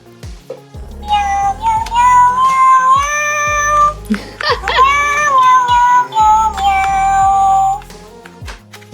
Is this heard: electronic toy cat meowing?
yes